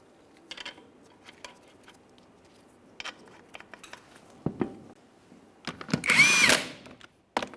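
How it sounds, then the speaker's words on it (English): A power tool spins on the 22mm lug nuts of a 1999-2006 Chevrolet Silverado 1500 rear wheel, scattered clicks and handling noises giving way to a short, loud whirring burst near the end. "go ahead and start on all 6 of your 22mm lug nuts"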